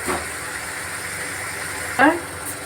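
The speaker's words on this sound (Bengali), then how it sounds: "আলু দিয়ে দিলাম আলু দিয়ে আরও কষাবো" Potatoes fry in a spiced masala in oil, giving a steady close sizzle. Two louder bursts of stirring and clatter come near the start and just past the midpoint.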